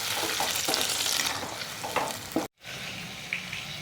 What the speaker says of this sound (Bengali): দুটো মাঝারি সাইজের টমেটোকে পেস্ট করে নিয়েছি, এর মধ্যে দিয়ে এটাকে আমি একটু নাড়াচাড়া করে কাঁচা গন্ধটা চলে গেলে